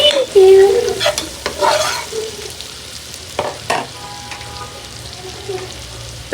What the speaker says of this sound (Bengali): পেঁয়াজটা একটু ভাজা হতে থাকুক